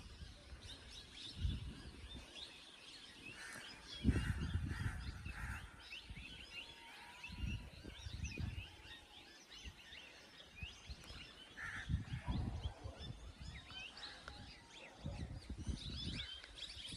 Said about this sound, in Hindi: चिड़िया कौए चहल पहल, आवाज आप सुन रहे होंगे ना